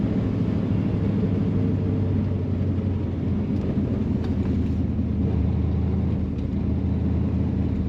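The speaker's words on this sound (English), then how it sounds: "Very nice rumble coming out of this exhaust on this Corvette." A 1969 Chevrolet Corvette convertible with a 454 engine rumbles steadily through its exhaust, a loud, continuous low idle that stays even from start to finish, with no voices.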